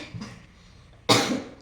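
Two coughs from a person with a cold, a softer short one first and then a louder, harsher cough a moment later, close and alone in a quiet room.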